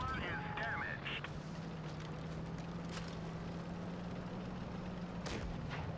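Cannon shots from a Tier 8 Soviet SU-130PM tank destroyer in WoT Blitz, two sharp bursts several seconds apart over a steady, droning engine hum.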